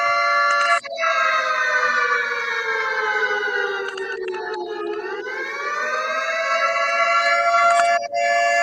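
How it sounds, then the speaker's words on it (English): A loud, continuous wailing nuclear alarm siren with a steady pitch that slowly dips and rises again, sounding long and sustained like a civil defense alarm. "That's a nuclear alarm siren, man."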